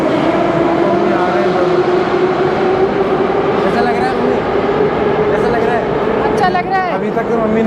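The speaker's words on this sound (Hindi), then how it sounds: "मॉस्को की मेट्रो है ये।" A Moscow metro train rumbles steadily with a high whine and screeching wheel tones, while people talk throughout.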